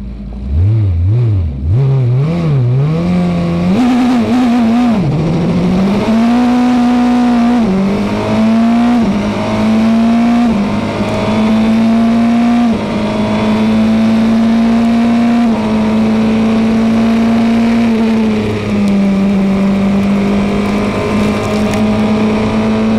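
Race car engine heard from onboard during a race, loud and close, revving up through the gears with rising and falling pitch before settling into a sustained high-speed drone, no voices.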